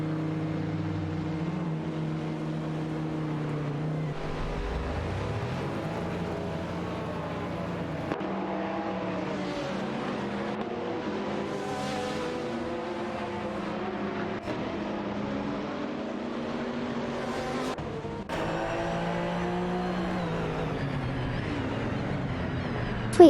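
Race cars in a racing video game duel closely for position, several engines droning and shifting pitch together in a steady layered whine with occasional upshifts and passes, continuous throughout with no voices.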